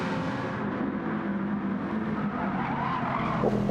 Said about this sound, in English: You could hear the tyre squealing, couldn't you, off that SLS.